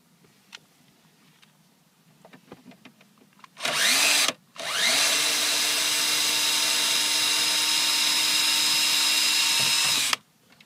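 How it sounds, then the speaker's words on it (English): Cordless screwdriver spinning out large T25 Torx bolts from a 2012 Volvo V60 dashboard: a short whirring burst, a brief pause, then a long steady high-pitched motor whine lasting several seconds before stopping abruptly. "If you've got a little cordless screwdriver, use it."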